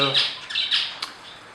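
A large English zebra finch calling, a run of short, bright nasal squawks close by and fairly loud, spaced irregularly over about a second and a half.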